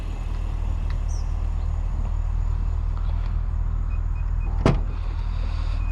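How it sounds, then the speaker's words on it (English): Power liftgate of a 2023 Infiniti QX80 operating with a steady motor hum over a constant low background drone, ending in a sharp latch clunk and short beeps. "Power liftgate."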